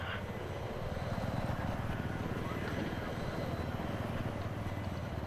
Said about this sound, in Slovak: vrtuľník tam je, ten náš?